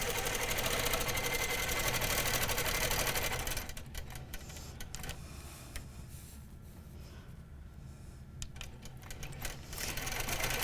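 A sewing machine stitches a quilt block in a steady, continuous whir of rapid needle strokes, louder for the first few seconds, easing to a softer run in the middle, then picking up again at the end, with no talking.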